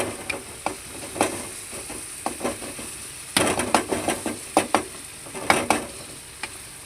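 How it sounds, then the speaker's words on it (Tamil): Tomato, onion and garlic sauté in oil with a constant hiss, punctuated by sharp clicks and scrapes of a spoon against the pan, sparse at first then a quicker burst of stirring midway. "தக்காளி வெங்காயம் பூண்டு எல்லாத்தையும் எண்ணெயில் போட்டு நல்லா வதக்கிக்கணும்."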